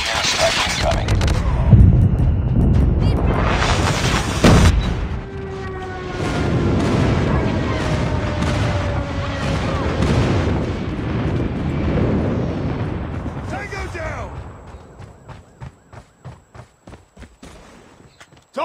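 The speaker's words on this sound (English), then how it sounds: "Friendly airstrike incoming." Airstrike explosions in the mobile shooter Call of Duty Mobile roll through as loud, booming blasts and rumbling bursts over several seconds, mixed with gunfire and game effects, fading into a series of sparse, rhythmic clicks and thumps.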